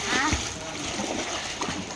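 Water splashes and churns continuously in a swimming pool during training, with busy splatter throughout as a person talks over it.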